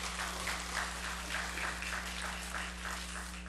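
A church congregation at a Sunday worship service breaks into steady applause, a dense, continuous patter of many hands clapping over a faint low hum.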